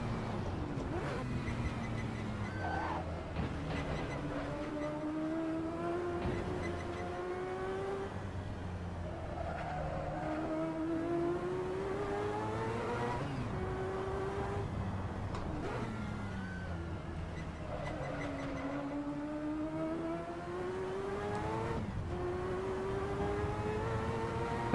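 A race car engine in the Assetto Corsa driving game at night on the Nordschleife, revving and shifting through rising and falling tones, heard steadily and fairly quietly throughout.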